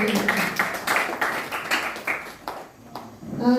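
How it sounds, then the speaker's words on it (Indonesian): A small classroom group claps for a student named Novi during a lesson, a short burst of uneven hand claps that fades out, with a voice entering near the end. "Tepuk tangan buat Novi"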